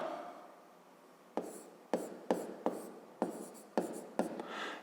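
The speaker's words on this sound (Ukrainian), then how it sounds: "записуємо тоді, чи існує, е, пишемо тоді так" Pen strokes on paper during a fifth-grade math exercise, a series of sharp, close scratching marks after a quiet start.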